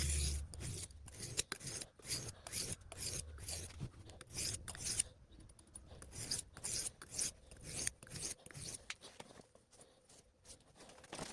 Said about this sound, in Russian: Сам нож уже острый, и я его немножко поправлю на камне в 6000. Делаю это с двух сторон движениями на себя и от себя.